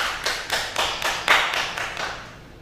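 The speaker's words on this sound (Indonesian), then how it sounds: "Silakan diberi aplaus." Audience applause in a classroom, a short burst of about eight sharp, rhythmic claps that fades out.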